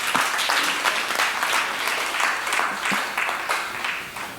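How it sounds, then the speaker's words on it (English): Dense, even applause from an audience fills the room for the Commissioner at a ministerial press briefing on physical planning, a continuous wash of many hands clapping without a break. "A round of applause for the Commissioner once again."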